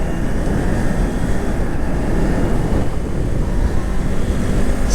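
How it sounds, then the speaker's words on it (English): Strong wind roaring over a microphone during a motorcycle ride, a loud continuous rushing rumble with no pauses and no talking. "it is extremely windy today"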